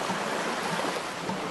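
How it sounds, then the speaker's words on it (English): Heavy steady downpour in a Middle-earth game on the coast of Lindon, a dense continuous hiss that stays even and loud across the whole moment, with no voices. "not so beautiful when it's pouring rain"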